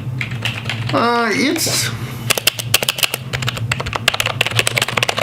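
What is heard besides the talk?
typing on a gaming computer keyboard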